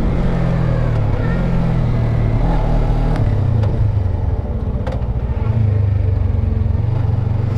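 A Suzuki GSX 250 R motorcycle engine idles steadily up close, a continuous low throbbing hum with slight shifts in pitch and faint mechanical ticks, with no talking over it.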